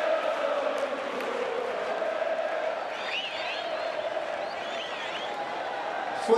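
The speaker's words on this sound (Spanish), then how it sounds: "Fuerte, fuerte, fuerte ese aplauso." A large crowd applauds and cheers steadily at a farewell tribute to footballer Maxi Rodríguez, a continuous wash of clapping with a few whoops rising midway, heard from a distance.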